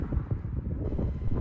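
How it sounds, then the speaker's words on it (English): Strong wind roars and thumps against the microphone in a continuous low buffeting. "As you can hear, it's bloody windy"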